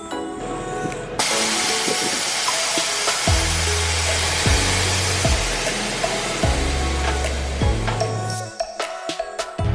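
Air suspension on an Infiniti G37S coupe airing out, a loud sustained pneumatic hiss with a string of repeated low mechanical clunks from the valves as the car drops, cutting off near the end.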